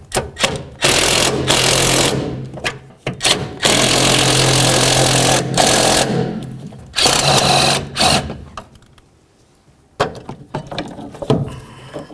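A power tool whirs and ratchets in repeated bursts while the transmission mount nuts come off a 2010-2013 Ford Transit Connect, loud and close, with short gaps and a quiet pause between runs.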